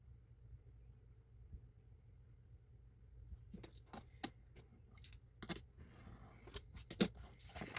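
Scissors trim the edges of a paper file folder for a journal, giving a quiet series of sharp snipping cuts that start after a few seconds of near silence and repeat irregularly up close.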